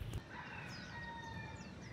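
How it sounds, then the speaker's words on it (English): Roosters crowing in the early morning, heard from some distance: a few thin, drawn-out calls overlap above low outdoor background noise, with a brief thump at the start. "You can hear the roosters. They're saying cock-a-doodle-doo."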